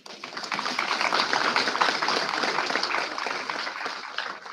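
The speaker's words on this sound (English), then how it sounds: "So big round of applause." Applause from a seated audience at a cyber hackathon event, a continuous crackle of many hands clapping steadily at moderate volume with no voices.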